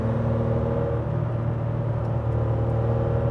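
A Porsche 993 R fitted with a Super Cup racing engine drones steadily while driving on a road, heard from inside as a low, constant rumble with a faint whine and no talk.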